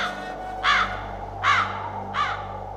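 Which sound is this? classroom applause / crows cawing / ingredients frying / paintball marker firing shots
crows cawing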